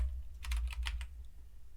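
Quick typing on a computer keyboard in the MonkeyType typing test, a short burst of about half a dozen crisp keystrokes over a low steady hum, close and without talk.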